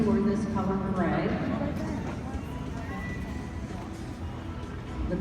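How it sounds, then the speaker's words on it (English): Gray Percheron draft horses moving in an arena, with muffled hoof sounds and movement under a steady crowd murmur and a voice talking nearby. "The horses in the arena right now are Percherons."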